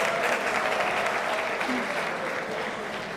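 A crowd at a cloud technology community event applauds steadily, a dense close wash of clapping that holds for a few seconds with no speech over it.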